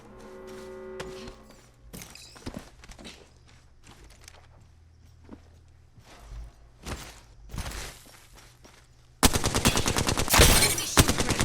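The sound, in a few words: gunfire from enemies in the video game Apex Legends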